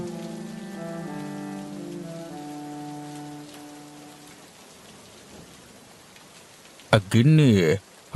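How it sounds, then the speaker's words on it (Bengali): Steady rain falls outside in a rainy-season cartoon, a soft constant hiss under a sustained musical tone that fades, followed near the end by a brief loud burst of other sound. "বাইরে যা বৃষ্টি হচ্ছে"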